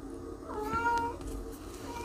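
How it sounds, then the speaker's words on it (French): A house cat gives a single rising-then-falling meow, fairly close but soft, over a low steady background hum with no speech. "Mon chat qui fait n'importe quoi."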